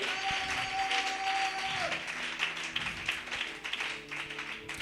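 A church congregation at a special worship service applauds in a dense, continuous wash of clapping, with a sustained tone briefly sounding at the start and crowd noise blended in.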